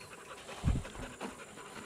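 A dog panting on a mountain bike enduro trail in Rabka-Zdrój, Beskid Wyspowy, a few soft close breaths with one stronger puff, fairly quiet against outdoor background.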